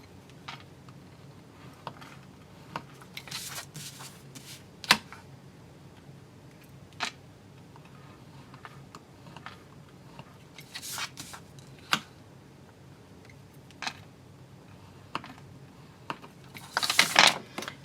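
Paper being scored with a tool while making a Pokémon Go Ball box: faint, scattered scraping strokes and small clicks up close in a quiet room, irregular and sparse, with a busier cluster of scratching at the end.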